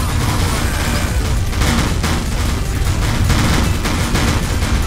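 Rapid bursts of gunfire in the virtual reality game Rec Room, loud, close and continuous volleys of shots crackling over one another with no pauses.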